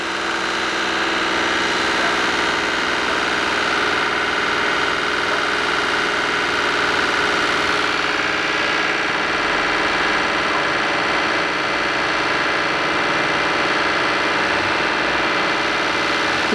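A newly installed cogeneration engine with a generator runs steadily while starting its switch to natural gas, a loud continuous droning hum with a fixed tone throughout and no talking.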